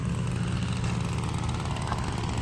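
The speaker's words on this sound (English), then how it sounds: "Mowing some lawns, doing some trimming." Lawn mower running steadily at an RV resort, a constant droning engine hum heard from a moderate distance with no talk.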